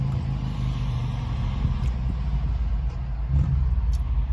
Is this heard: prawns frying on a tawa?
no